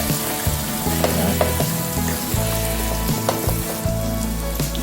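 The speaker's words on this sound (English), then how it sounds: "so the various seasoning is being sautéed right now." Seasonings sauté loudly in a pan for stir-fried Jamaican sardine rice, with a steady, close sizzle and a few scraping stirs running throughout, no voices.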